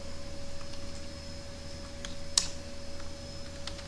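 Code is typed on a computer keyboard in Visual Studio 2019, with sparse, quiet keystrokes and one sharper click over faint background hum.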